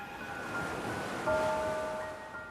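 Ocean waves make a steady, soft wash of surf at a distance. Faint sustained tones hang over the broad rushing noise.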